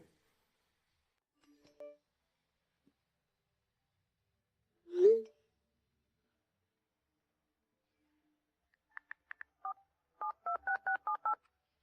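A telephone number being punched in on a keypad, a quick run of short DTMF beeps followed by a steadier cluster of paired tones near the end, clear and isolated against near silence after a couple of faint earlier sounds.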